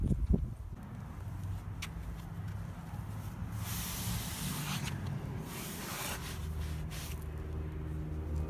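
Aerosol spray paint hissing onto the back bumper of a Jeep TJ, a steady close rush with brief louder bursts and pauses between passes, no talking.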